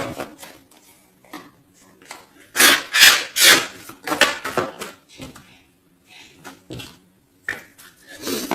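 A deck of tarot cards is shuffled and cut into three piles, giving a run of dry papery slides, taps and shuffling bursts in irregular clusters, fairly close with quiet pauses between.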